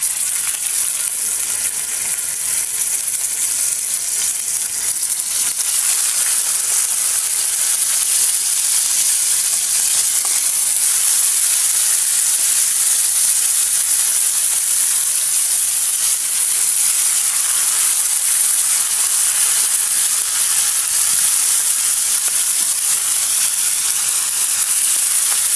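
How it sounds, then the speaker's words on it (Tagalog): Baby tuna fish fry in hot oil with a continuous, even sizzle and crackle that stays loud and close throughout, with no voices. "dito rin natin ipiprito ang ating isda"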